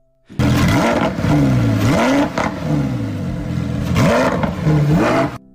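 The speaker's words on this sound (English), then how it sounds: "Every time the V10 started, the sound was absolutely epic." A 2024 Lamborghini Huracán Tecnica V10 engine revs hard in repeated rising roars, loud and close, each blip swelling and falling back, with no talking.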